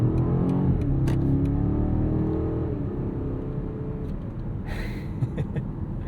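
A 2023 BMW 760i xDrive with a V8 engine pulls hard, with a deep engine roar building and shifting in pitch from inside the car, then easing to a steadier cruising rumble with a few small clicks.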